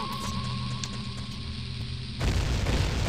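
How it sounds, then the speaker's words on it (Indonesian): Explosion in The Legend of Zelda: Ocarina of Time on a video game, a dense noisy blast that bursts in over a steady hum and tones and keeps roaring to the end. "Meledak semua."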